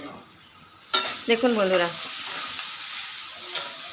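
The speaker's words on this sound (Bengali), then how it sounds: "এবার আমি লাল লাল করে ভেজে নেব।" Onions with halved green chillies hit a hot pan and start frying, a sudden loud sizzle that settles into a steady crackle, with someone briefly speaking over it.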